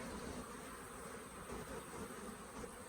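Dense, steady buzzing of many bees around an opened beehive during a hive inspection, loud and continuous with no talk.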